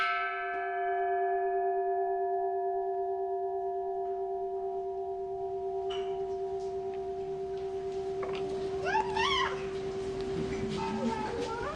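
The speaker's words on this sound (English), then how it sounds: "When the sound of the bell recesses, everybody resumes their normal activities." A mindfulness bell is invited at the Plum Village meditation center, ringing once with a long, steady, slowly fading tone. Later, birdsong and faint background sounds rise beneath the lingering resonance.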